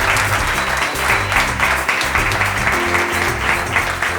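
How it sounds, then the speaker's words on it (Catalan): Audience applause at the close of a live Catalan reading-club talk show, a dense, steady wash of many hands clapping throughout, fairly loud and close with a low hum underneath. "un aplaudiment enorme pel Martí"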